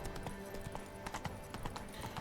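Geralt's horse Roach trots along in The Witcher 3, a steady run of hoof clip-clops over a continuous bed of game music and ambience, moderately loud throughout.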